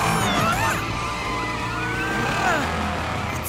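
A cartoon police car approaches with a rising and falling siren wail layered over engine rumble and tire noise, loud and close, with no talking.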